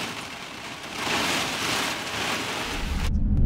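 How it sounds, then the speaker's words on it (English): Heavy storm rain pours down at Hatteras on the Outer Banks in a dense, steady hiss close by, with a low rumble building toward the end. "and it is pouring."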